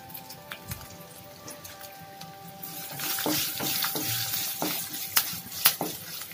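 Garlic, curry leaves and tempering spices frying in a pan for a Tamil vatha kulambu; a low steady sizzle with scattered sharp crackles and spatters growing busier in the second half, close by with no talk.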